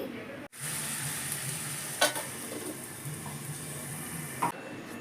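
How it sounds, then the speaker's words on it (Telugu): Chicken pieces cooking in ginger garlic paste for a Sunday chicken fry piece biryani, a steady close sizzle with a couple of sharp clinks of a ladle or lid against the pot. "ఈ అల్లం వెల్లుల్లి పేస్ట్లో చికెన్ ముక్కలు బాగా ఉడికేలాగా ఉడికించుకోవాలి"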